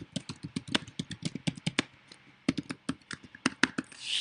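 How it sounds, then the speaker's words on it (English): Rapid, close keystrokes on a computer keyboard clatter in quick irregular runs with a brief pause midway, crisp and distinct against a quiet room. "you can begin to type anywhere in the box"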